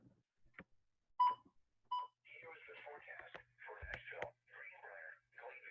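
Short electronic beeps, then a weather radio broadcasting a tornado warning alert on its frequency, with a few tones followed by a stretch of robotic-sounding spoken announcement coming through the small speaker.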